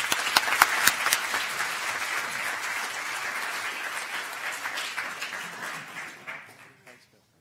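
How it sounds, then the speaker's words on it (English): A roomful of people applauds at a school board meeting, a dense burst of clapping with a few sharper claps early on, holding steady before fading out at the end. "Give him a round of applause."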